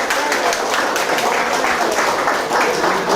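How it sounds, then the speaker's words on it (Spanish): A church congregation applauds for an image of the Virgin, a dense steady wash of many hands clapping, fairly close and continuous, with faint voices mixed in. "los aplausos para la Virgen."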